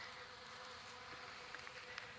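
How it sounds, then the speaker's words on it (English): Honey bees buzz around a jar feeder filled with syrup, a steady close insect drone with a few brief louder passes, no talking. "There's a few bees in it."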